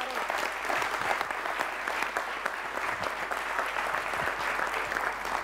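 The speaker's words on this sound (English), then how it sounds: "A very warm applause for our speaker" Warm audience applause at a lecture on artificial intelligence and singularity: a dense, steady wash of many hands clapping, moderately loud and sustained throughout with no voices over it.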